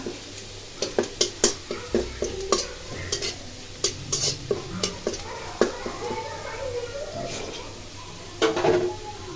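Garlic tempering sizzling in hot oil for cooked greens, with a spoon clacking sharply against the pan in quick bursts over a steady frying hiss, close up, and voices faintly in the background.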